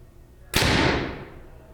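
A single sharp shot from a Prime CT5 compound bow, a sudden loud snap at the release followed by a short fading ring, heard close and alone.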